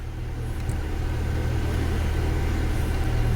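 A Toyota Fortuner's engine runs at a steady idle after a brake pad replacement, giving a constant low, close rumble that holds evenly throughout with no talk over it.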